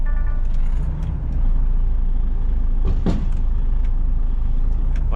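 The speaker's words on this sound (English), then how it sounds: "put it in crawler gear. That makes it a little less jerky. And then move forward slowly" An articulated Class 1 (Cat C+E) truck creeps forward slowly in crawler gear, its low engine rumble steady and close, with a brief air-brake hiss and a few metallic clicks.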